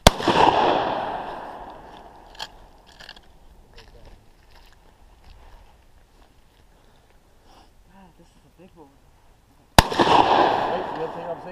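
Target practice at Rogue River State Game Area brings two sharp, loud gunshots, one at the very start and another near the end, each ringing out into a decaying echo, while people talk quietly between them.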